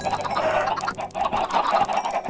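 Chickens in the Minecraft video game clucking in a steady run of short, close squawks, loud and without speech.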